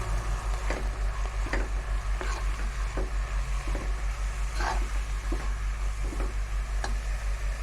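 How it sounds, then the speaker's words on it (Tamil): Tomatoes with salt, turmeric and garam masala sizzle steadily in a hot pan while a spatula scrapes and taps at a regular rhythm, close by with no talking. "நல்லா வதக்கணும்"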